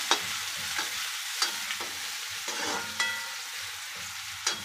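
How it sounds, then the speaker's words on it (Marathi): Chopped onion sizzling in a hot pan while being stirred, with steady crackling broken by repeated sharp scrapes of a spoon against the pan. "आता कांदा टाकते. कांदा चांगला परतवायचं."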